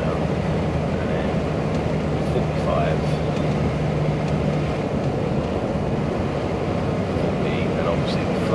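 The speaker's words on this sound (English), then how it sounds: "the engine brake's doing that for me naturally" An HGV lorry cab hums with a steady low engine drone as the engine brake retarder slows the truck below 50 mph, continuous and even under faint background noise.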